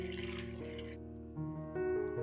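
Water is poured into a pressure cooker holding chopped vegetables and green peas for pav bhaji, a short steady splashing pour with faint tonal ringing from the metal pot.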